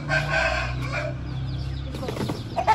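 A hen clucks and calls near a rooster in a farmyard just after being let out of her coop in the morning, a few short bursts of fowl sounds with no speech.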